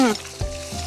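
Curry leaves hitting hot tempering oil with a pinch of asafoetida, giving a brief, close sizzle with a soft thump and a faint tonal trace at the start, over in under a second.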